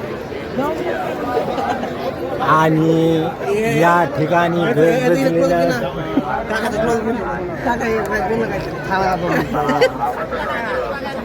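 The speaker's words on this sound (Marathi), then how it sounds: "गर्दी बघू शकता तुम्ही" A dense crowd gathered for a Dussehra Ravan Dahan burning, a steady murmur of many voices and chatter close around, with someone talking over it throughout.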